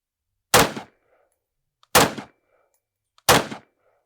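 Three loud, sharp 5.56 XM855 rifle shots fired at body armour, evenly spaced about a second and a half apart, each a close crack with a short decay, and quiet between them.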